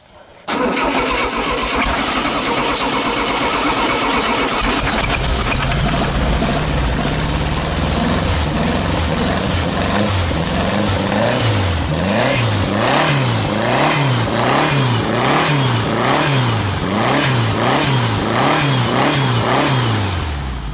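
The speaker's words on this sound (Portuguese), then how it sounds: "pode tentar ligar, eu acelero daqui" A carbureted car engine cranks and catches, then runs loud and close as the throttle is blipped over and over in steady, rhythmic revving surges.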